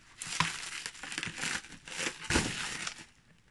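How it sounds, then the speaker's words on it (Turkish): Bubble-wrap packaging being pulled open and crinkled from a parcel holding die-cast toy cars, a string of close, loud rustling and crackling bursts with no talking. "O güzel pat pat poşete sarmışlar."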